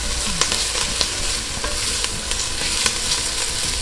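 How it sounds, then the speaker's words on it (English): A spoon stirs and scrapes browned onion bits into a simmering vodka sauce in a pan, giving a steady sizzle with faint, regular scraping ticks close up. "if you have little brown bits of from the onion, make sure you scrape that all into your sauce"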